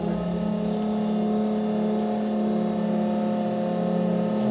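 An Isuzu EV100 electric 6 m³ garbage compactor truck runs its scraper and slide plate through a collection cycle, giving a steady, close, even hydraulic hum and whine with no pauses.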